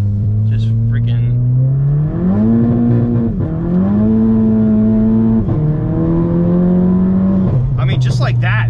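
A Volkswagen with a DSG gearbox accelerates hard from inside the cabin, engine droning loudly and rising in pitch through several quick gear shifts, with brief voices near the start and end.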